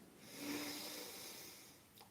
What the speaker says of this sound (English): just take a nice big deep breath in through your nose.